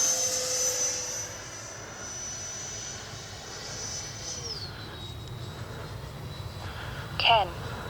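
Freewing Zeus 90mm 6S RC jet flying overhead, a steady high-pitched ducted-fan whine that drops in pitch as it passes, with a brief chirp near the end over a rumbling outdoor background.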